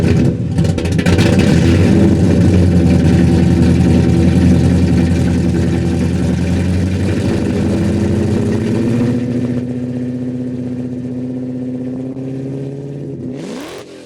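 A 1966 Pontiac GTO V8 at a car show rumbles loudly close by, revving with a throaty roar before settling into a steady, slightly lower idle, then cutting off at the end.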